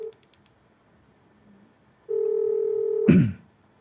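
A steady telephone dial tone sounds for about a second while a call is placed, preceded by faint beeps and ending in a short clunk as the line connects.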